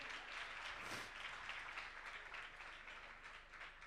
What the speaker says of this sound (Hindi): आइए जोरदार तालियां बजा दीजिएगा।